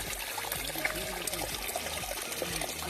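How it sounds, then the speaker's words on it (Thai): Spring water welling up from the ground in a Kanchanaburi forest and flowing strongly, a steady close trickling and burbling with small splashes, alone and fairly quiet. "เป็นตาน้ำโผล่มาตรงนี้ครับไหล ค่อนข้างแรงครับ"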